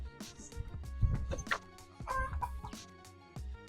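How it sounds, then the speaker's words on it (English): Chickens clucking and squawking close by, a busy overlapping chatter of several birds. "Chickens, more chickens, chickens and chickens."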